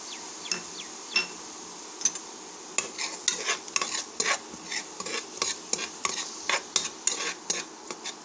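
Onions frying in a pan for banana flower biryani, a steady sizzle broken by repeated scraping and stirring strokes, close and moderately loud, with no talk.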